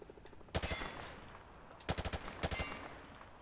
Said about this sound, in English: He sprayed bullets all over the damn place.